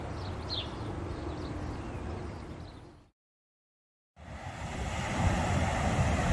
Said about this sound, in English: That's Beeston Weir.